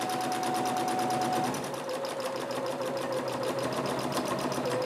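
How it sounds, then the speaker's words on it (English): A sewing machine runs steadily for the whole stretch, stitching around the fabric of a clutch bag along a half-inch seam with a constant, close, even whir and no pauses. "Starting right here, we're just going to sew all the way around with our half inch seam allowance."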